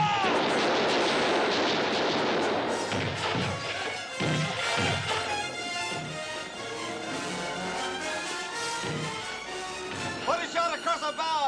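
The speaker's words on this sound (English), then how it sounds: "Put a shot across the bows! Aim! Fire!" Ship's cannon firing a warning shot in a 1963 period drama, heavy booming blasts with crashing debris amid shouted commands and a loud dramatic orchestral score.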